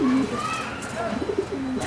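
A racing pigeon coos in the loft, several soft, low throaty coos close by, with someone talking over them.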